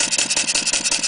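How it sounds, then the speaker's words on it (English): Clarkson vertical steam engine with Stephenson valve gear notched up, its exhaust chuffing in a steady rapid beat of about eight puffs per second, loud and close with a hissing edge and no talk. "I'll now notch up the valve gear, and you'll notice a difference in the sound of the exhaust"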